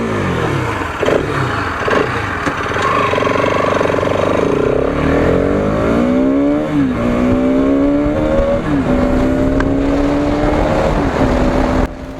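A Bajaj Pulsar RS200 motorcycle engine on a ride, a loud, continuous exhaust drone that climbs in pitch through the gears, dipping briefly at each shift and rising again as the bike accelerates.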